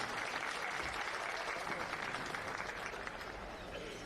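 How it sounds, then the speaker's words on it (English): An outdoor crowd at a western campdraft championship final applauds its finalists with steady, sustained clapping that holds at an even level across the whole stretch. "A big round of applause for each of our finalists"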